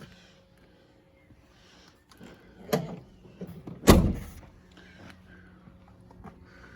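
Tailgate on a 50th Anniversary Land Rover Defender 90 with a 4.0 V8, opened and shut with a firm mid-clip knock and a louder solid clunk a second later, close by, then quiet.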